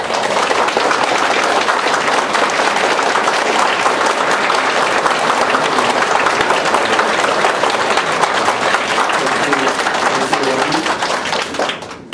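An audience at a school board meeting on a transgender policy breaks into sustained applause, many hands clapping in a dense, loud wash that holds steady for about twelve seconds before tapering off.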